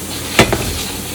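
Mussel broth is poured into a hot pan of stir-fried abalone, mussels and clams for seaweed soup, giving one sharp splash and sizzle and a smaller second burst before settling into a low simmer.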